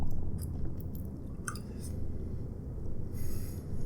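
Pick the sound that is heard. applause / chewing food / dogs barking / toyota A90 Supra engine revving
chewing food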